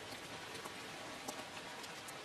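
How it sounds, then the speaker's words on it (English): Rain patters on the glass entrance doors of a hotel, a steady dense hiss of drops with scattered faint taps, soft and continuous, with no voices. "listening to the rain on the glass doors of the entrance"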